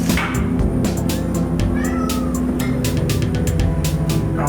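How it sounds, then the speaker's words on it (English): A cat meows insistently at a pot of homemade gumbo, several close, loud cries over a steady low hum in a home kitchen. "the cat smells it already"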